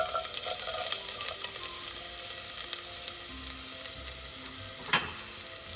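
Garlic sizzles steadily in hot oil in a pan while a homemade pizza sauce is being made, a constant crackling fry with occasional stirring clinks and a sharper clatter near the end.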